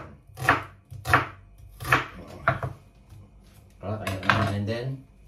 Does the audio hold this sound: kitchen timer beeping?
no